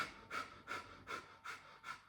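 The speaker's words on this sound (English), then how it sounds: "So exhalation exercise, push your belly button in, air comes out." Forceful yoga exhalations, belly pulled in to push the air out, come as five or six sharp, evenly spaced breaths through the nose, close and fairly quiet, with no talking.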